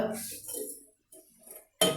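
A metal cooking pot is set down on a stove with one bright clank at the end, after a stretch of quiet voice and faint kitchen handling.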